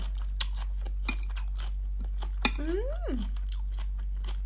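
Close, crunchy chewing and biting of food eaten with chili paste, with a few sharp crunches and a brief vocal hum rising and falling in the middle, over a steady low electrical hum.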